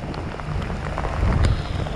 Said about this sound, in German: Es regnet immer noch in Strömen.